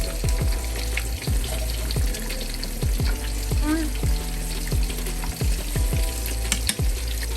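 Shrimp sizzle in a garlic sauce in a pan while a utensil stirs them in regular scraping strokes, the frying loud and close with a faint hint of running water behind.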